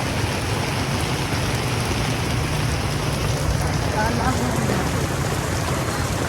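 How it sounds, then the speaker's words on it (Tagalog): A dense, constant roar of heavy rain pours down without pause, loud and close, with a low rumble underneath. "Ang lakas ng ulan."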